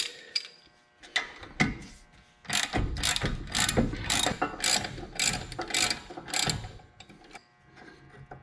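Ratchet wrench clicking in quick bursts while removing front brake parts from a 2011 Camaro SS, several loud close ratcheting runs separated by short pauses.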